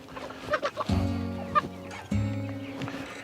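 American Bresse chickens and a rooster cluck and call close by on a farm, a few short bursts early on, then two longer loud squawking calls a second apart.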